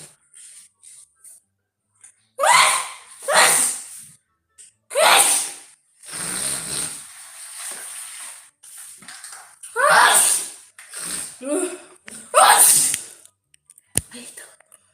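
A sneezing fit from a person with rhinitis during a livestream, several loud, close sneezes with sharp intakes of breath in between, spread across the stretch alongside whispery breathing.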